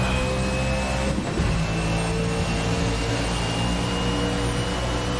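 An IMSA GTO Camaro engine in a sim racing game at Race City Calgary drones at steady high revs, a loud continuous engine roar with a brief dip in tone.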